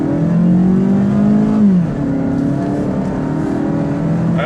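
A 2016 Scion iA automatic, 106 horsepower and about 2,400 pounds, accelerating at full throttle with a loud, steady engine drone whose pitch climbs, drops briefly at a shift, then rises again.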